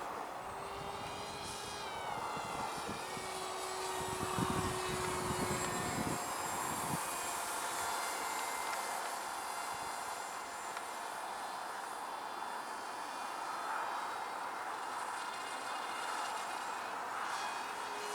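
An R/C Depron F-100 Super Sabre propjet model plane in flight, a continuous high-pitched whine that holds steady and drifts slightly as it passes, with some low rumbling bumps early on, no talk.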